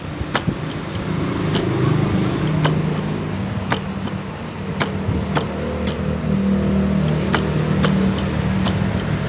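Traffic rumbles along a roadside next to a street corner, a steady close engine drone with vehicles accelerating past and sharp intermittent clicks and knocks spread throughout, no one talking.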